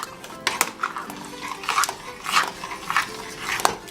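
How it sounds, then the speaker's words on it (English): Honey being stirred into a vegan millet kheer pudding, giving a series of soft scraping and clinking spoon strokes against the pot at an irregular rhythm, close and moderately quiet. "Stir that in."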